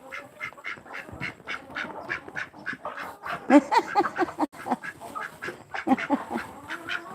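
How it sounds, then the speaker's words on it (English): Three farm ducks, a drake and two females, quack in rapid, repeated bursts, close and loud, the calls overlapping into an uneven chatter throughout. "Oh, there's the duckies."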